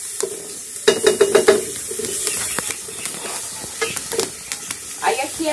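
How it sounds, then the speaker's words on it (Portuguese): Seasonings frying in a pan on a wood-fired stove, sizzling loudly and up close, with a burst of quick scraping stirs early on and then an ongoing hiss and crackle broken by occasional taps. "fritar um tiquinho, os temperos"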